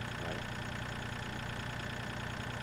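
A tractor engine idles in Farming Simulator 2013, a steady low rumbling drone with a faint rhythmic knock, constant and unbroken, with no voices.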